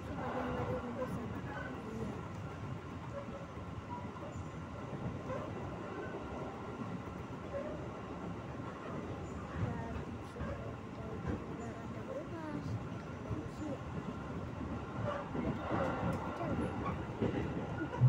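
Commuter KRL train running between stations near Buaran, a continuous rumbling roar with rail clatter heard from inside the carriage, with an onboard announcement and people talking over it.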